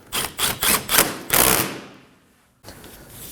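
A 10mm bolt is snugged up on the AC condenser of a 2014-2020 Acura MDX, a rapid run of loud, close mechanical clicks and thuds that trails off, then a steady low background.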